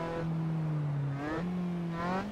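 Austin Healey Sprite engine in the Assetto Corsa racing game at Bathurst, a loud, close, buzzing engine tone that holds steady, drops at a gear shift and then climbs again as it revs up.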